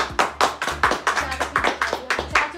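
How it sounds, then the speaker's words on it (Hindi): Children clap their hands at a small anniversary party, a quick, even run of a dozen or so crisp claps over a few seconds, close and fairly loud, with faint voices mixed in. "बच्चों बजाओ ताली"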